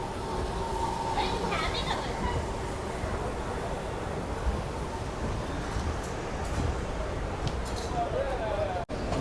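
A passenger express train pulls out of Katpadi Junction, its steady rumble and wheel noise heard from on board, continuous and moderately loud with a faint squeal and a brief clunk near the end.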